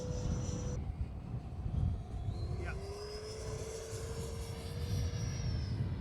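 A Freewing Avanti v2 EDF model jet flies past with a steady rising whine and a sustained tonal drone that shifts in pitch as it banks, fairly distant under broadband wind and outdoor noise.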